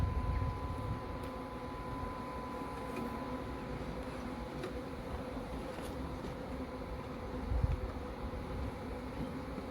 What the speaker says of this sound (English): Now, even though we have black bees,